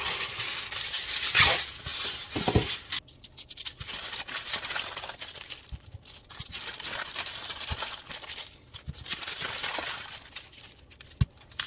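Potatoes being wrapped in aluminum foil in a home kitchen: repeated close crinkling and rustling bursts, with a few sharp handling taps, and no talking.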